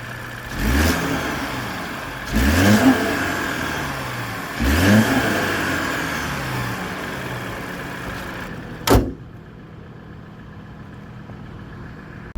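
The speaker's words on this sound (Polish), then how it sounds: "Tak ten silnik pracuje." A Mercedes CLE 300 4MATIC's 2-litre four-cylinder engine idles steadily and revs up three times in spaced bursts, each climbing and falling, then cuts off abruptly near the end.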